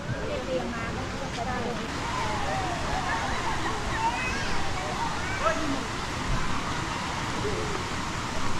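Steady broadband rush of Chet Sao Noi waterfall in Thailand, a seven-tiered waterfall, fills the scene, constant and fairly close, with faint voices occasionally audible beneath it.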